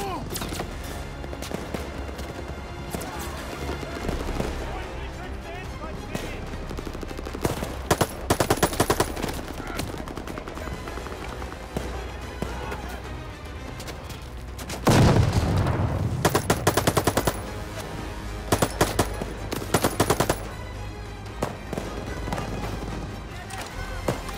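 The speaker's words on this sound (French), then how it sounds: "Dispersez-vous, encerclez cette mitrailleuse!" Sustained machine gun fire in the Call of Duty Vanguard video game, rapid bursts and heavy volleys layered over a loud battle din with explosions, while soldiers shout orders throughout.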